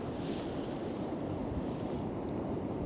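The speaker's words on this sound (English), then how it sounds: "Oh, hang on, some good waves." Ocean waves under a grey sky, a constant broadband wash of surf with wind rushing across the microphone, steady and moderately loud throughout with no voices.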